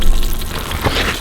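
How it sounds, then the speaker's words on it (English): Fish fillets frying slowly in a pan outdoors, a low, steady sizzle with soft crackling pops, fairly close and continuous with no talking. "this is definitely like a very slow, low sizzle"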